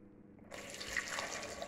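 Tap water runs into a container of rested seitan dough for washing. It starts as a faint trickle and then turns into a steady, loud splashing flow that continues to the end.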